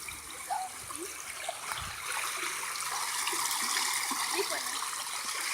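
Rainwater rushes through a wash in a steady, broad roar of flowing water that swells slightly louder in the second half. Low scattered voices can be heard now and then over it.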